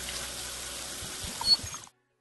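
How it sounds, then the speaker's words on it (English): Running water from a sink tap as hands are washed with soap, a steady close splash and trickle for almost two seconds before it stops abruptly. "we always wash with soap and water"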